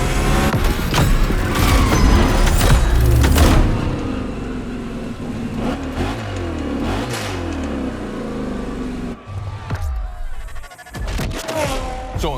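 A fire-spitting Ford Mustang V8, billed as the mother of all Mustangs, revs in The Crew Motorfest racing game, its engine note sweeping up and down loudly over a dense game mix with a voice talking.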